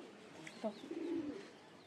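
A pigeon coos softly in a Bangladeshi village, a brief low burbling call over quiet background, with a faint chirp heard nearby.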